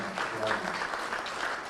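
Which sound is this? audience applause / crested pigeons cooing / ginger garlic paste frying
audience applause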